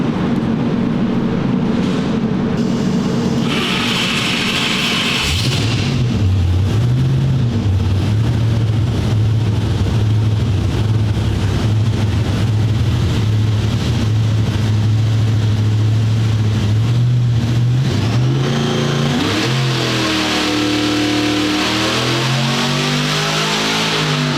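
Car engine revving hard during a burnout attempt, loud and close, climbing from a rough idle into sustained high revs with wavering pitch, then surging and dropping again near the end.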